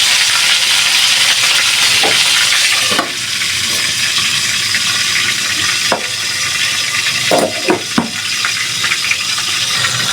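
Chicken and squid fry in a pan with a steady loud sizzle, broken by a few sharp pops and scrapes as the pieces are stirred and flipped.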